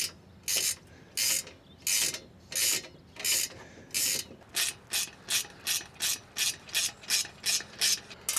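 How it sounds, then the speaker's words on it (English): Ratcheting while tightening bolts on a low tunnel bender for EMT conduit, a close, repeated series of crisp ratchet clicks, slow strokes at first and then quicker, evenly spaced ones, with no talking. "I'm going to get the rest of the bolts in first, and then go ahead and tighten it all up."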